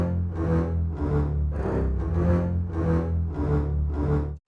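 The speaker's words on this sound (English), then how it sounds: "this symphony bass that comes in the last few bars" A BBC Symphony Orchestra bass patch plays alone, a deep sustained line of repeated swelling notes, about eight even pulses that hold steady and loud before cutting off abruptly at the end.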